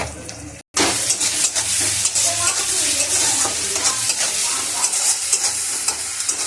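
Onions fry in a home kitchen pan for a mustard jhal dish, giving a loud, steady, bright sizzle with stirring scrapes. The sizzle starts after a brief silent gap and runs unbroken.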